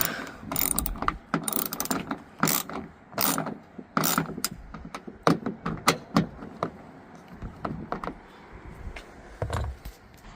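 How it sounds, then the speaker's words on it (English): Screws being tightened on a plastic lift gate trim panel of a 2008-2017 Jeep Compass, heard as a series of close ratcheting clicks and mechanical rattles in irregular bursts, with no talking. "Now I'm gonna put those 2 screws back, and I'm gonna tighten those up."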